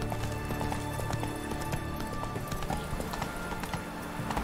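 A horse gallops in the video game The Witcher 3, with rapid, continuous clip-clop hoofbeats at moderate loudness over ambient background sound and no clear speech.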